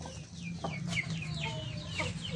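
Siamese chickens clucking close by, several short chirpy calls and clucks overlapping in quick succession against a low steady background hum.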